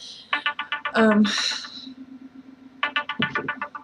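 A mobile phone ringtone plays close by indoors: quick bursts of bright electronic beeps repeat in a fast rhythm, break off briefly under a warbling tone, then start again.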